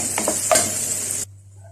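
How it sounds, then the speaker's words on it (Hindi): Onions fry in a pan with ginger and garlic, giving a loud, close sizzle with a couple of stirring scrapes before the sizzle cuts off abruptly. "जिंजर गार्लिक के साथ मैं इसको फ्राई कर लूँगी"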